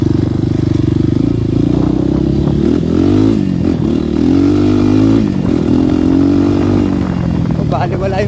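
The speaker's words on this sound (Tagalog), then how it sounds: "Papaikot muna tayo ng motor bago sila hanapin." A motorcycle rides along a muddy road, its engine loud and close with a steady droning hum that shifts pitch as it revs, accompanied by rattles and scrapes, while someone talks over it.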